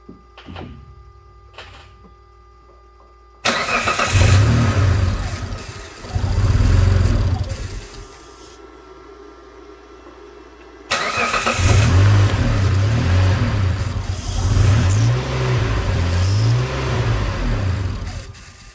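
An SUV engine, a 2007 Mitsubishi Outlander that is hard to start after refueling, cranks and catches, revs briefly, cuts out, then starts again and runs at a rough, steady idle close by, with faint clicks before.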